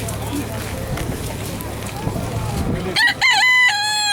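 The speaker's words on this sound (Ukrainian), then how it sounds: "тут вже залишився петух, два голуба" A rooster at an outdoor pigeon fair crows loudly and close in one long, ringing call near the end, after a stretch of crowd bustle and people talking.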